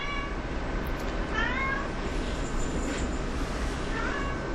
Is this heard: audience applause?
no